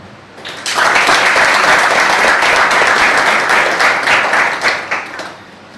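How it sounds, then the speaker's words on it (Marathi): A hall audience at a Moksha Foundation event on a drug-free society bursts into loud, sustained applause for the foundation's staff, dense clapping that starts abruptly and holds steady for about five seconds before tapering. "मोक्ष फाउंडेशनच्या स्टाफचं अभिनंदन करताना टाळ्या जोरात पाहिजे"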